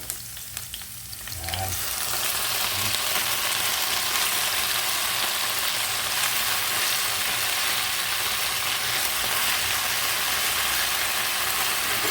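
Water spinach dropped onto sautéed onions in a hot pan, a sudden burst of loud steady sizzling that continues unbroken, close and dense, with light handling noises at first and no speech.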